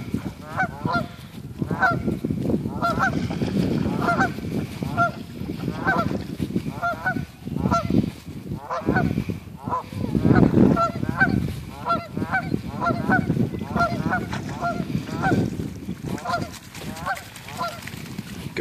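Geese honk over and over in quick, irregular bursts, loud and close, above a constant low rumble of wind or handling noise that runs through the whole stretch.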